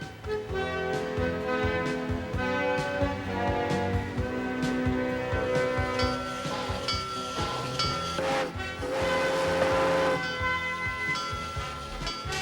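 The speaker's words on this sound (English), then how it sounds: "Around on one of the Transvelt Railway's old-fashioned steam engine trains." An old-fashioned steam train on a Busch Gardens Tampa theme park railway chugging along with a hissing rhythm, its bell clanging and whistle tones ringing out over the rumble.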